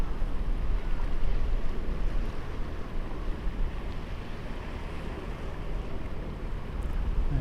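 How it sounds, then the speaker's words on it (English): Pleasure boat out on the sea off the Cornish coast near St Ives, heard as a steady broadband wash of engine, water and wind, continuous and fairly loud throughout with no talk. "yeah, I think it's a pleasure boat"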